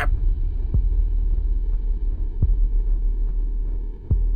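Eerie droning ambience in a Slender Man–style horror video game: a low, steady rumbling hum with faint throbbing, broken by three deep heartbeat-like thuds at regular intervals, loud and close with no talking.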